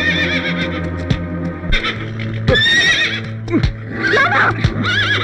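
A horse neighs and whinnies repeatedly at close range, in loud, shrill bursts separated by sharp thuds and clip-clop hoof sounds.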